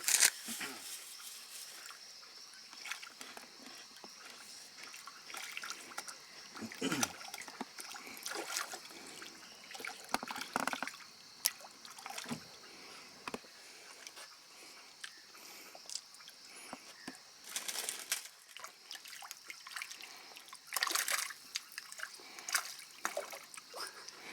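Piranhas thrash at a biscuit thrown into a lake in Peru, giving scattered bursts of splashing and trickling water, some sharp and close, spread irregularly over a quieter watery background.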